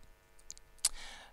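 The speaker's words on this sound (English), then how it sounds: "just hit F7 on your keyboard" A single key on a computer keyboard, the F7 key, is pressed with a sharp, faint click, alone in a quiet room.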